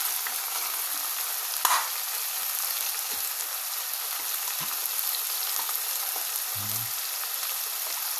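Chicken liver sizzles steadily in a pan after cream is added, a constant soft crackling hiss with an occasional pop and a brief low knock near the end, no voices.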